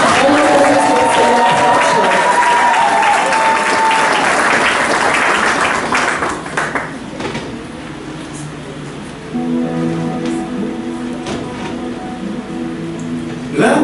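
Guests at a religious wedding ceremony clap loudly and continuously for several seconds. The applause then thins out and trails off into quieter crowd murmur.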